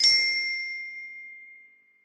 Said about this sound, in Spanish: El suave sonido de cristales chocando resonó